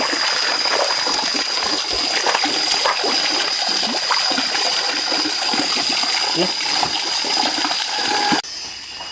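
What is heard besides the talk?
flowing water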